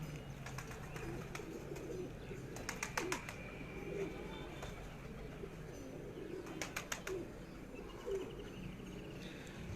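Lakha breed pigeons at a loft give soft, low coos through a steady ambient hum, broken by a few quick bursts of wing flapping or clattering near the middle and later on.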